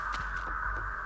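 Crows cawing in Dead by Daylight: several quick, harsh caws in a short rhythmic run over a steady ambient hum, moderately close.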